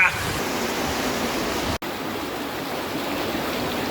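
A river rushes through a rocky gorge near caves along Route 40 in La Poma, Salta, as a steady, loud broadband roar of flowing water that fills the whole stretch with hardly a pause.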